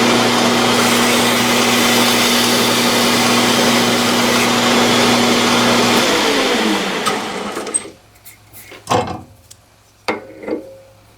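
A polishing machine runs loud and steady for about six seconds on a metal block with a quarter-inch hole, then winds down, leaving a few short knocks and handling noises near the end.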